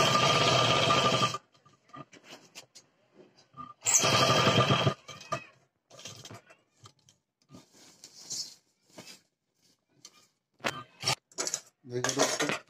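A sewing machine stitches a hook onto ladies' pants in two loud, fast bursts, followed by scattered clicks and handling noises and brief talk.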